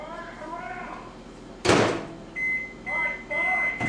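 A microwave oven defrosting chicken: a loud clunk of the door, then the steady electronic hum of the running oven, heard close while someone talks before and during it.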